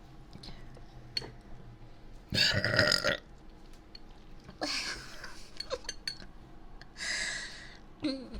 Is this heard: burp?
yes